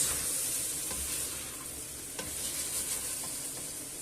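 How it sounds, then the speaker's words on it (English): Potatoes stirred through a frying pan alongside chickpeas and hake, a steady close sizzle with soft scraping and shuffling as the pieces are moved about, continuous for several seconds. "let's add the potatoes in, and we'll just move everything about"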